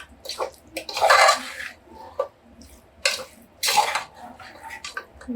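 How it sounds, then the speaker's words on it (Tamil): Water is poured from a small vessel into a pot of mutton kulambu, splashing in two bursts among clinks of metal cookware and a few quiet clatters. "மிக்ஸ் பண்ணிவிட்டு குழம்புக்கு தேவையான தண்ணி ஆட் பண்ணிக்கலாம் நான் ஒரு சொம்பு தண்ணி ஊற்றுறேன்"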